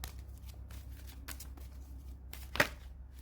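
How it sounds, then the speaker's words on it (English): Oracle cards are shuffled by hand during a tarot-style reading, a soft, quiet riffling and shuffling with a sharper card snap near the end, heard up close with no talking. "I had already shuffled, but I just got the instinct to do it again."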